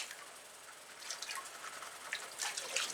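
Water sloshes and trickles as a gold pan holding dirt, sand and rocks is swirled back and forth, with soft close splashes and drips that grow a little busier toward the end.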